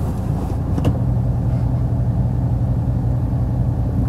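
Inside a Toyota Vigo, the engine runs with a steady, loud, low rumble, constant and close with no talking.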